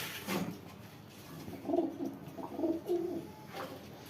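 Pigeons coo softly in a few low, rounded bursts over a quiet background, with a brief rustle near the start.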